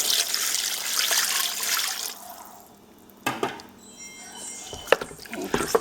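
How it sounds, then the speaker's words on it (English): Water poured into a pot of goat meat for a stew: splashing and trickling at first, then a quieter stretch broken by a few sharp knocks and drips. "I'm going to add water and start cooking"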